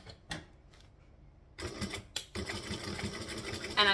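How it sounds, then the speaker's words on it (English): Sewing machine stitching back and forth on a garment pocket, short mechanical bursts at first, then a longer run of rapid close stitching after a brief pause, with no talk. "I'm just going to stitch back and forth there."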